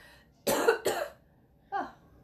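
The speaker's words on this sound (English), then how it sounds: "I don't mean to keep coughing in your ears." A woman coughs several times: two quick harsh coughs close together, then after a short pause a third, softer and shorter cough. No talking, and the background is quiet.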